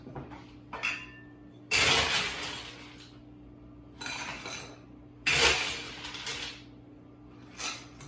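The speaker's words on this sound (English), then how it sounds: "Then you're going to fill your glass with ice." Ice dropped into a cocktail glass while making a dirty mojito, a few bursts of clinking and rattling cubes against glass, close and fairly faint, with quiet pauses between scoops.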